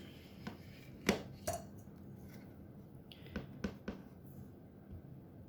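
A rubber stamp is pressed down repeatedly during stamp cleaning, producing a few sharp, quiet taps and thuds at irregular intervals in a hushed room.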